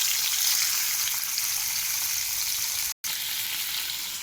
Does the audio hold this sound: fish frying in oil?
yes